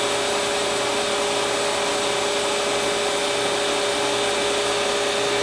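A Dadson DS1342-KM CNC knee type gun drill boring steadily, a loud continuous machine whine and rushing hiss with a constant tonal hum and no break throughout.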